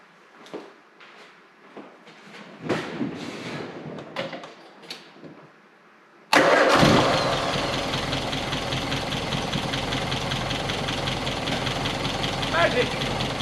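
Several seconds of quiet clicks and cranking lead to a 1961 Triumph TR3A engine with an upgraded distributor abruptly firing up, then settling into a loud, steady running rumble.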